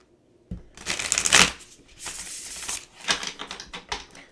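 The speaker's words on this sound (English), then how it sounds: "I'm going to do a couple shuffles." Tarot cards are shuffled close to the mic in several quick riffling bursts with short pauses between them, crisp and papery, and no voice is heard.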